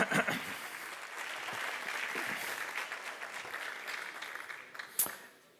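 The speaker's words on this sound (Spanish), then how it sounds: "Quiero que recibamos con un aplauso enorme a Eugenio Fuentes." An audience applauds to welcome a crime novelist on stage at a union congress, a steady wash of clapping that swells, holds for several seconds and tapers near the end, with a few sharp individual claps standing out.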